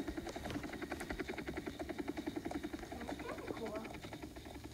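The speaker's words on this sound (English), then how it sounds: "Oh, helicopter." A helicopter in a Roblox prison escape obby gives a steady, rapid rotor chop and buzz that pulses evenly throughout, with a voice talking over it.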